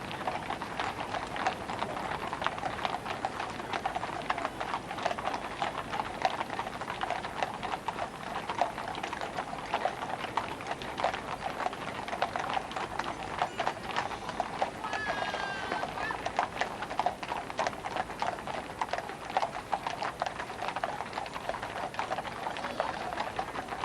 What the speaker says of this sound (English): just the sound of horses' hooves